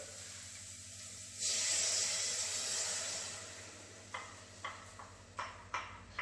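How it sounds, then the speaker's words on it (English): A burst of sizzling hiss swells up as cold passata is poured into a hot pan, then fades, followed by a few soft, sharp ticks and pops as it settles. "You heard that sizzle then because it's just cooled it down straight away."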